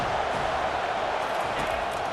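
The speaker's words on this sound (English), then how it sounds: "Decimals rising as the crowd gets behind this defense on third down." A simulated stadium crowd roars behind the defense on third down in a college football video game, a dense, continuous wash of noise that stays steady and full throughout.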